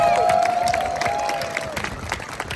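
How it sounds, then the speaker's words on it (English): Street-show audience at the Edinburgh Fringe applauding a performer's volunteers, a dense wash of clapping with cheers and a whistling tone at first, steady and fairly loud, tapering slightly toward the end. "Give them the applause."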